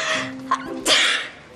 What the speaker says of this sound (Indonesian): Sampai bersin begini.